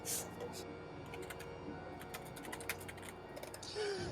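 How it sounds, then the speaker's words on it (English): Keys clattering on a computer keyboard in quick, irregular bursts, fairly close, with voices talking over much of the typing. "Can you hear typing?"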